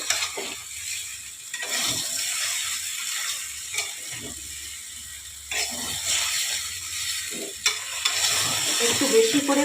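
Potatoes and rice are stirred and fried together for muri ghonto, with a close, continuous sizzle and repeated scraping strokes of a spatula against the pan.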